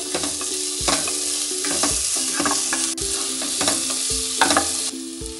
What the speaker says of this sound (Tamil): பட்டர் நல்லா உருகிடுச்சு இப்போ வெங்காயம் சேர்த்துக்கலாம்